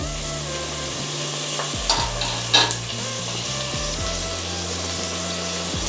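An onion, tomato and chicken curry mixture is lightly sautéed in a pot, giving a constant sizzle and stirring under a steady tonal musical background, with a couple of brief louder clatters and no speech.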